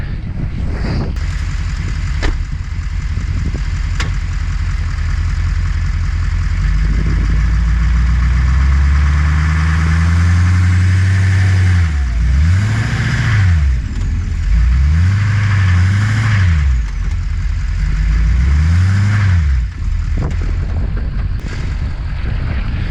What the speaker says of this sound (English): I just gotta make sure that I don't spin. The more I spin, the more hole I'm gonna dig.